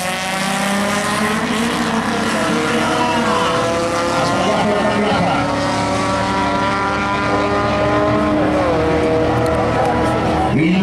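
Race car at the 2019 Rivanazzano hill climb, its engine screaming at high revs with rising and falling pitch as it gears through, loud and sustained, with a commentator's voice partly over it.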